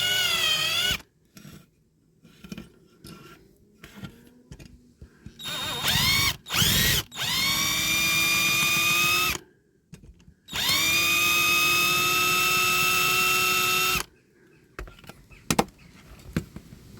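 A drill bores into a Corgi Toys diecast open-top toy bus, giving several sustained high whining bursts with pitch dips as the bit bites, separated by short pauses and small handling knocks, close and loud.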